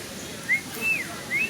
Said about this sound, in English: I got all the birds.